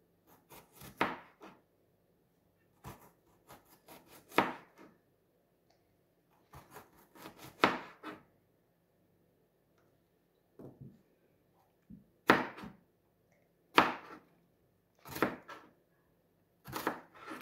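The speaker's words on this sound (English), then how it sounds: "Show us how to cut the onion." A young child chops an onion with a knife, slow irregular knocks of the blade on a cutting board, a few taps at a time with quiet pauses between, close and fairly faint.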